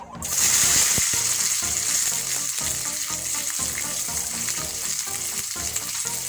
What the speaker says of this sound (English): I will be putting in the tomatoes now